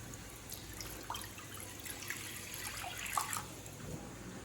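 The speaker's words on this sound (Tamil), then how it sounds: "கடாயில் தேவையான அளவு தண்ணி சேர்த்துக்கலாம்" Water is poured into a kadai, running and trickling steadily at close range, quiet and continuous with faint splashes.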